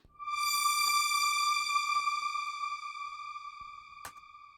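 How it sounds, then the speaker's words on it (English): A single sustained synthesizer note from a Nymph 6 patch ends a melody, a bright, pure harmonic tone that rings steadily and slowly fades, with faint clicks underneath and no talk. "Now I'm adding in a Nymph 6 sound here, which is just this last note now."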